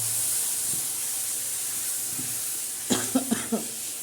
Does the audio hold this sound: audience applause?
no